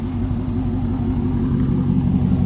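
A wrecked Dodge Challenger R/T engine idles steadily, a low continuous rumble with a throbbing mechanical pulse, close by and fairly loud, with no voices.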